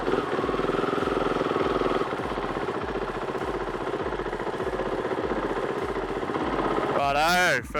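A motorcycle engine runs loud and close at a steady, throbbing idle, with a quick rev rising sharply at the end.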